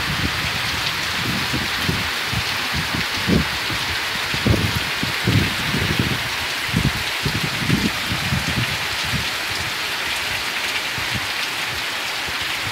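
Heavy rain pours down on a rural farm during a thunderstorm, a dense steady hiss with low rumbling thumps of thunder in the middle, no voices.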